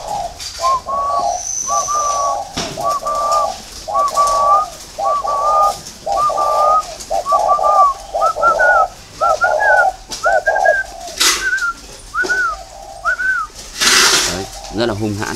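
Decoy spotted doves coo in a steady series of repeated, evenly spaced calls, close and clear, with sharp clicks and handling noises breaking in between.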